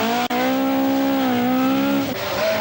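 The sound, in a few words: Bertie Fisher's Ford Escort rally car driving at speed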